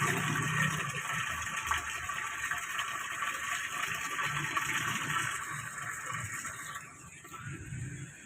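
Steady rush of water pouring into the drum of a Toshiba AW-DC170 16 kg inverter washing machine, constant and fairly loud, easing slightly near the end.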